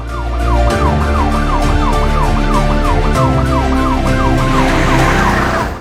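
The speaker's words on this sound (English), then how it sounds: "Mr. Baxter was arrested, handcuffed, and sitting inside the police car" A police car siren wails loud and close in a steady repeating rise-and-fall pattern, carrying on without a break over a low engine rumble.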